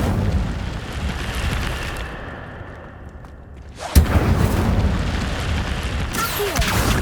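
An Incendio fire spell blast in Hogwarts Legacy, a loud sudden whooshing burst of flame near the middle after a quieter stretch, followed by sustained roaring noise and another burst later.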